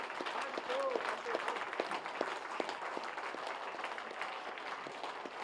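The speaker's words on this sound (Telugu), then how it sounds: "గట్టిగా క్లాప్స్." An audience at a youth panel discussion rises for a standing ovation to honour the masters, sustained crowd applause with some sharper individual claps standing out, while a voice carries on over it.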